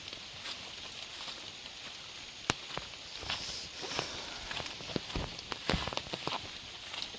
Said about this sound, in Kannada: ಲೈಟಾಗಿ ಮಳೆ ಬರ್ತಾ ಇದೆ